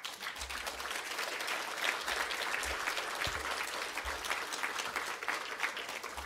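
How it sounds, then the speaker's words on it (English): An audience claps steadily throughout, a dense wash of applause from a sizeable crowd, even in loudness without cheering. "let's give another round of applause to our speakers"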